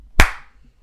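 One sharp hand clap rings out once, loud and close, with a short fading tail in an otherwise quiet room.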